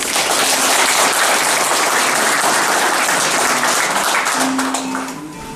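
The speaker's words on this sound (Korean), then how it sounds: "한 분 한 분 소개할 때마다 큰 박수 부탁드리겠습니다." Audience applause at the opening ceremony of a regional office in Gunsan, Korea: a dense, steady burst of clapping from a large crowd that holds loud throughout and eases slightly at the end.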